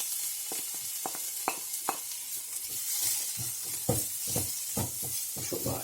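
Peppers are tipped into a pan of frying onions while cooking pointed gourd bhaji, setting off a bright continuous sizzle with scattered scraping and stirring clicks from a utensil against the pan, close and fairly loud, with no talk.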